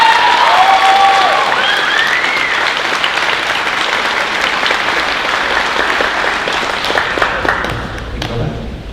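A packed high school class night audience claps loudly and continuously for the graduating class's top honors, with a few whistles early on and the ovation thinning toward the end.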